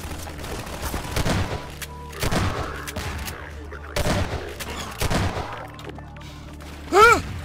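Grenade blasts in the Half-Life 2 shooter: several loud, booming bursts at irregular intervals, each with a rumbling tail, with a sharper whooshing effect near the end and no talking.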